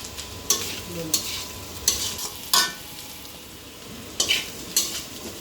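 Potato and pointed gourd frying in a pan, a soft continuous sizzle broken by several sharp scrapes and clinks of a spatula stirring the pieces, close and steady with no voices.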